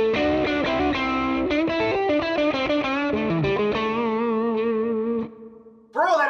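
Electric guitar played through an amp preset, a loud distorted blues run of quick bent notes with effects, ending on a held note, a pause, then a fresh strum.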